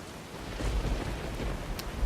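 Steady rain falls in the desert of Fallout: New Vegas, a soft continuous hiss with low rumbling underneath and a brief sharp click near the end, no voices.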